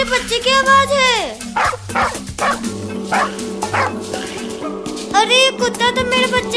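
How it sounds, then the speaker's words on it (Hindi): An animated dog chasing a kitten barks and yips loudly in quick bursts, with cartoon character voices speaking over and between the barks and a soft score underneath. "अरे ये कुत्ता तो मेरे बच्चे के पीछे ही पड़ा हुआ है,"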